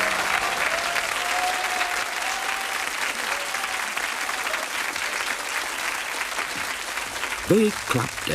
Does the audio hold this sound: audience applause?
yes